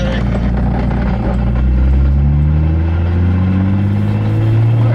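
Big-turbo Lexus IS300 engine idling and pulling loud and close with a deep rumble, the clutch chattering unevenly beneath the drone.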